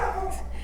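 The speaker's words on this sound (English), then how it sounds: "Sorry for the crazy dog." A dog barks and whimpers nearby in a short burst, loud against a steady low background hum.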